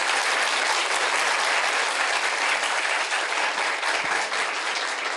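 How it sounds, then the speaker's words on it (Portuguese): Steady, dense applause from an audience at a televised event against child sexual abuse, thanking a psychologist and a doctor; continuous and loud throughout with no talk. "Uma salva de palmas para eles."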